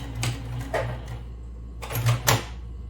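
A sewing machine runs in short stitching bursts, two quick runs, a pause, then two more, each a rapid mechanical chatter, close up in a quiet room.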